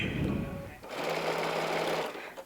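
A sewing machine whirs in a short steady burst as it stitches up to a knot, close by, with a person talking over the start of it.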